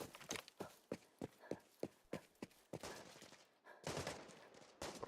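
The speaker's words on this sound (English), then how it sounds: "I'm hearing scav AK fire in the back left side of this POI right now." Distant scav AK fire in Arena Breakout Infinite, a string of faint, evenly spaced single shots echoing from off to one side, quiet and far away.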